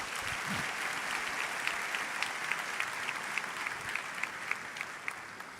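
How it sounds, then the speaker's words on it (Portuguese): Steady applause from a large church crowd, dense clapping that holds evenly throughout with no pause. "Será que você pode dar um aplauso para essa garotada toda?"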